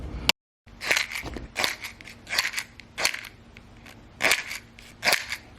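Cheap matches being struck repeatedly against a box, about seven or eight scratchy rasps spaced unevenly, some with a brief crackle, close by and fairly loud, after a short silent gap.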